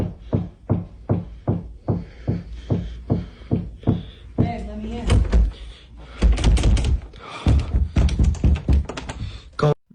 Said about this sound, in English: That thing was just hammering the door.